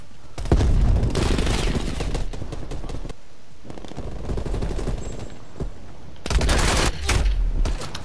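Automatic gunfire from the Call of Duty Black Ops Cold War beta rattles in loud sustained bursts, separated by short quieter gaps, with a final burst near the end.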